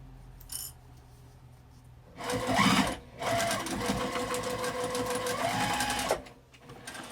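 A sewing machine runs in a short burst and then a longer steady run while stitching a fabric makeup zipper bag, its whirring motor close and clear against a quiet room.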